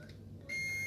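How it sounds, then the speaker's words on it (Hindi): A multimeter's continuity buzzer sounds on a shorted diode in a Samsung Smart LED TV power supply, starting as one steady, loud high-pitched tone halfway through and holding to the end over a low hum. "तो जैसा कि मल्टीमीटर की अभी आप बजर भी सुन सकेंगे"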